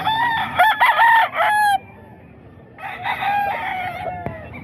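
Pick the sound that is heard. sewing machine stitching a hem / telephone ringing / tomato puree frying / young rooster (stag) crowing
young rooster (stag) crowing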